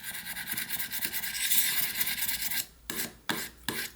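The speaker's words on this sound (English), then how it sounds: "Sometimes I move the cutting stone or the sandpaper down the length of the blade like this." Whittling knife blade drawn along a cutting stone, a steady close raspy scraping that runs continuously, then breaks into three short separate strokes with brief pauses between.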